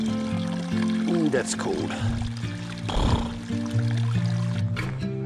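Water from a cold mountain stream on a night hike pours into a bottle, a steady close gurgle and trickle over constant flowing water, while a person speaks briefly.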